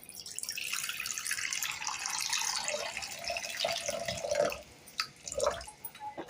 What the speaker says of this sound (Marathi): आता इथे बाउल घेतलाय, त्याच्यामध्ये आपण पाणी घेऊया